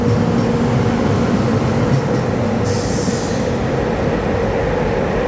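A Romanian train at a station platform rumbles loudly and continuously nearby, with a steady mechanical drone and a brief hiss partway through.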